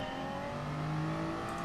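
A Toyota Supra race car engine in the Gran Turismo Sport video game, racing on the Nordschleife, roars steadily and loudly as it accelerates in a short burst with no voices.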